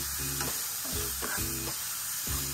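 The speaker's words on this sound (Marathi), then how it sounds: "कांदा सुद्धा जरासाच परतवायचा आहे" Chopped onion is sautéed in a pan, producing a constant close sizzle with rhythmic scraping stirs roughly every half second.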